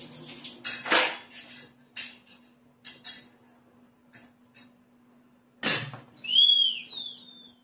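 Metal clatter of an idli stand being set into a steamer pot, several sharp clanks and scrapes spaced apart, then a ringing metallic squeal near the end, close and clear with no talking.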